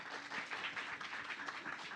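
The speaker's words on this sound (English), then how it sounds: "Please give a big round of applause." Applause from an evening event audience welcoming a moderator, a steady fairly faint patter of many hands clapping heard from a distance, with no speech.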